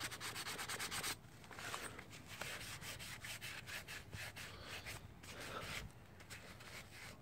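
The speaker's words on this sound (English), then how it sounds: "That's probably give it a good more scrub there." A dirty GY6 180cc scooter engine part being scrubbed with WD-40, heard as a close, continuous rasping scrub with steady back-and-forth strokes and no talking.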